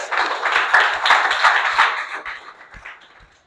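A small audience at a Toastmasters meeting claps in a short round of applause, close and fairly loud individual claps blending together, then thinning out and tapering away within a few seconds.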